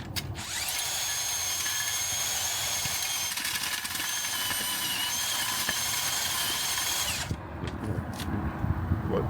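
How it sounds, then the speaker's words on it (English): A power auger bores into hard clay soil in a garden flower bed, running as a loud sustained motor whine with grinding for about seven seconds before stopping, followed by rustling and knocks. "Now we can actually use the auger"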